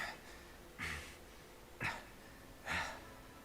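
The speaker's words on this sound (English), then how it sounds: "Is he gonna keep panting like that?" Three spaced, breathy exhales from a character panting in the video game Tales of Arise, each a short airy burst with quiet pauses between them, fairly close and moderately soft.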